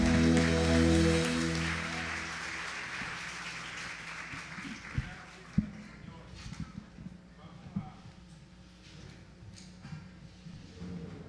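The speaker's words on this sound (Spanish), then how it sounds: "aplausos al Señor" A church congregation claps and cheers, loudest at the start and then thinning into scattered claps and isolated sharp hand strikes, with a voice speaking over the fading applause.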